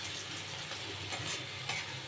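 Onion frying in a pan for aloo paratha sizzles with a steady, bright crackle and occasional stirring scrapes, close and continuous, with no voices.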